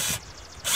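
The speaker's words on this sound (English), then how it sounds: "When I drill a hole, I just try to press this in place so that it doesn't shift everywhere." A power drill bores a pilot hole near a front-porch planting container, giving loud bursts of broadband grinding noise that briefly drop away and return.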